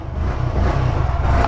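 A vehicle engine runs during a brief sound check, a loud, rough low rumble that rises slightly as it revs, alone without speech.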